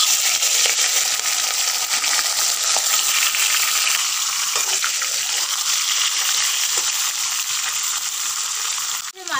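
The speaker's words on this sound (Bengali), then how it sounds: "एबारे जे कतला माछेर माथा दुटो आमी भालो करे भेजे नेब।" Two katla fish heads fry in hot mustard oil in a kadai, giving a loud, continuous, close sizzle and crackle that holds steady throughout with no talking.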